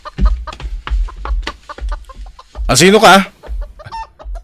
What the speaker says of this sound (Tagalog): Apay at tiniliw mo ti manok mi.